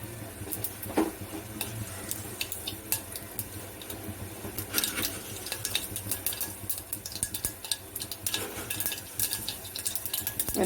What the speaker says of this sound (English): When the mustard seeds are bursting